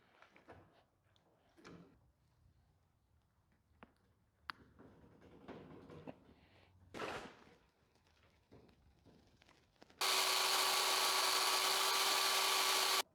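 A power tool cuts a hook off a pulley setup for a homemade elevator in a backyard fallout shelter. After scattered clanks and handling noises, a loud, harsh, steady grinding whine runs for about three seconds.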